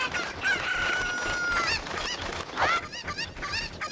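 Chickens in The Legend of Zelda: Ocarina of Time squawk and cluck in quick bursts, with a longer crowing call near the start, close and fairly loud, alone.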